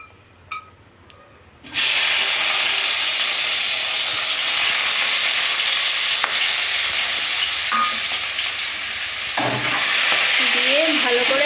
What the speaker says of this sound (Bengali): এবার আমরা কাঁচা লঙ্কা তেলে ফোড়ন দিয়ে দিলাম